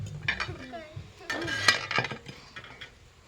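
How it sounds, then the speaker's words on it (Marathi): Dishes clinking and scraping in a metal griddle pan (tava), short irregular bursts of scrubbing and clatter at close range. "तवा घे तव्यात भांडी घास"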